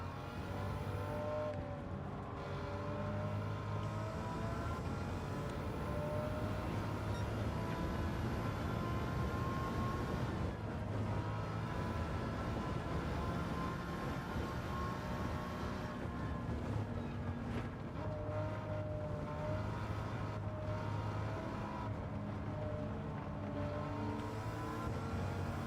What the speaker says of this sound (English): This engine makes an interesting sound.